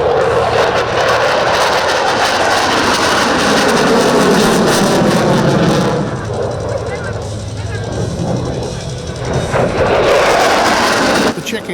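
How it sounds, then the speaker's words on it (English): Saab JAS 39 Gripen fighter of the Czech Air Force flying an airshow display, a loud sustained jet roar that surges and fades as it passes, with talk over it. "He is the new Czech Air Force display pilot on their primary fighter, the Saab"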